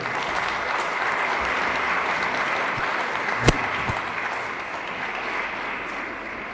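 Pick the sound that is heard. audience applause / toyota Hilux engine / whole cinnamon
audience applause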